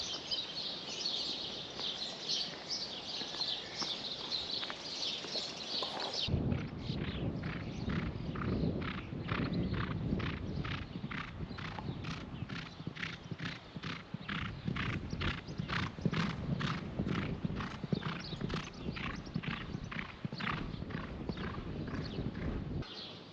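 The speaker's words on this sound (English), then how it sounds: "we were woken to the sound of birds and hoofbeats" Steady clip-clop of horse hooves at a racecourse in the morning, a regular rhythmic beat that continues throughout, with birds chirping in the background, especially at the start.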